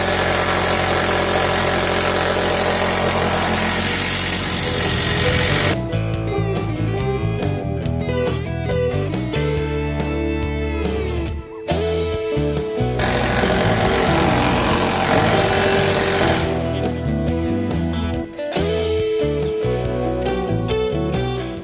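A pneumatic planishing hammer pre-stretches a sheet metal panel for a 1969 VW Bus restoration, hammering loudly and continuously in a workshop, with rapid bursts broken by brief pauses as the panel is repositioned.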